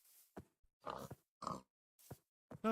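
Pigs in the Minecraft video game giving a handful of short, low grunts spaced irregularly, quiet and isolated with brief silences between them.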